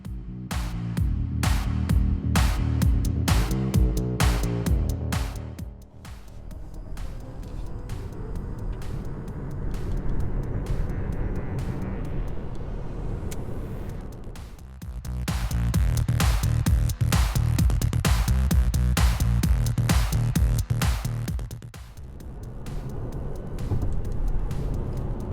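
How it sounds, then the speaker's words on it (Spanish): Toyota Mirai 2021 hydrogen fuel-cell car accelerating hard, a loud steady drive whine and road roar that builds, dips briefly, then surges again, close and continuous with no talk. "vamos a ver la aceleración y también el adelantamiento de este Mirai"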